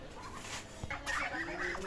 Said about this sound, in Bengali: এখন এটা মুরগি না মোরগ হয়েছে